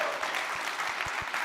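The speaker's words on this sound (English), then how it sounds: "Give a round of applause for yourselves" An audience at a live watch party for Met Dhabi 2025 applauds, a fairly faint, steady patter of many hands clapping throughout.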